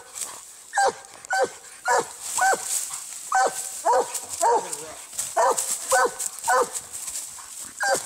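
A treeing walker coonhound barks repeatedly in loud, close, ragged bursts while it fights a raccoon, with yips and whimpers mixed in and a person speaking faintly between the barks.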